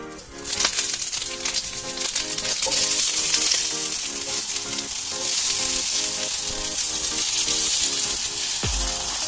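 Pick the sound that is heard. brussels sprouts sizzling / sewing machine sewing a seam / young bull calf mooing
brussels sprouts sizzling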